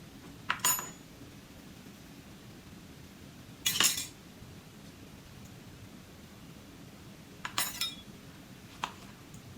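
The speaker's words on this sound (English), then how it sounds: "So we're gonna scrape the rest and excess juice and seeds." Cutlery scraping and clinking against a dish while tomato seeds and juice are scraped out for mango bruschetta, three or four short, sharp metallic scrapes spaced apart over quiet background hiss.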